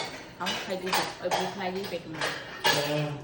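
Dishes and cutlery clink during a family meal at home, a few scattered light metallic taps mixed in with close voices talking throughout.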